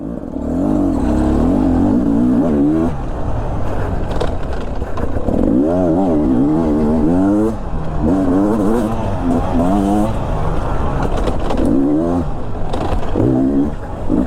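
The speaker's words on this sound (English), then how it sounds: "this 300, that low end grunt, that low end torque is so fun to use" A Beta 300 RR Race Edition two-stroke dirt bike pulls hard on an off-road ride, its engine rising and falling through repeated revs and low-end surges, loud and close throughout, with no voices.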